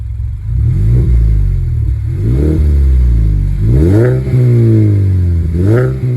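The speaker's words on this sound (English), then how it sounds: "It's just gonna race the engine, right? So let's get a little listen from the outside." A manual-transmission car engine revs repeatedly from a steady idle while parked, pitch climbing and falling in several loud surges, heard close up from outside with no talking.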